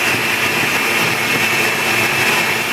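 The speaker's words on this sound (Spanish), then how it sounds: "lo ponemos en la licuadora con agua" An electric blender chops passion fruit peels with water, giving a loud, steady, close whirring roar that holds constant without pause.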